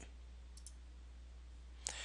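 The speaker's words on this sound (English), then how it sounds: "Going to click it." A single computer mouse click snaps sharply near the end of a quiet stretch with steady low hum, preceded by a couple of faint ticks.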